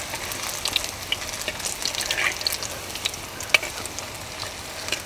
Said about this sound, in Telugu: ఇలా కొద్దిగా డీప్ ఫ్రై చేసేసుకుంటే జస్ట్ లైట్గా బ్రౌనిష్గా వస్తే సరిపోతుంది